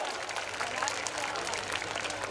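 A festival crowd at the Dohela folk music event in Khurai applauds the women present, steady clapping spreading evenly and fairly quiet at a distance.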